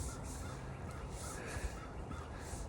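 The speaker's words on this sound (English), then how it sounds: "You can hear the birds." Birds calling outdoors during a quiet walk, faint repeated chirps and calls over a soft steady background of wind and ambient noise.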